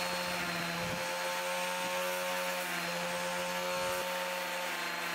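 A power sander with a diamond pad rounds the edge of a travertine tile in a steady, loud, high motor whine with a gritty grinding hiss, and faint thumps as the pad shifts against the stone.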